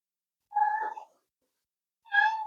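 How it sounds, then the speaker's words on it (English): A pet cat meowing twice indoors, two separate drawn-out meows about a second apart, faint and somewhat distant in an otherwise quiet room. "You also must be hearing my cat"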